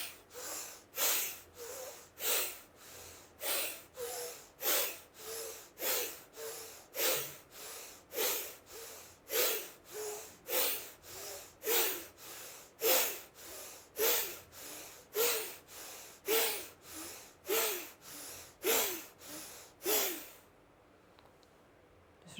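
Deep meditative breathing, about twenty slow, even breaths in a steady rhythm, each a soft airy rush close to the microphone, alone and quiet, ending in near silence.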